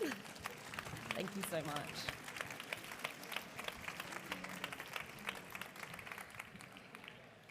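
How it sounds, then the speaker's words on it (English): A warm round of applause from an audience for a journalism panel of four speakers, moderately loud clapping throughout with a voice speaking briefly over it. "Warm round of applause."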